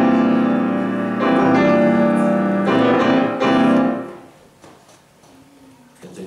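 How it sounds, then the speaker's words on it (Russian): The so-called death chord from Tchaikovsky's Fifth Symphony, played as a few sustained, dense chords that swell and then fade into a quiet tail, heard on its own. "У Чайковского есть так называемый аккорд смерти."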